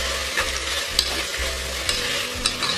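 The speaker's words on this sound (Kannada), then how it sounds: "ಸ್ವಲ್ಪ ಕೊತ್ತಂಬರಿ ಸೊಪ್ಪು, ಸ್ವಲ್ಪ ಪುದೀನ ಸೊಪ್ಪು ಹಾಕ್ಬಿಟ್ಟು ಒಂದು 2 ನಿಮಿಷ ಇದನ್ನು ಫ್ರೈ ಮಾಡಿ." Coriander and mint leaves frying with ginger garlic paste for paneer pulao, a steady close sizzle with occasional stirring scrapes and clinks, no talking.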